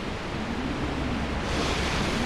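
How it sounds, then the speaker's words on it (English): Water splashing and washing in the Super Mario Sunshine video game, a steady broadband surf-like wash that holds constant and swells slightly louder toward the end, with no talk. "That's pretty good water effects too, for back then."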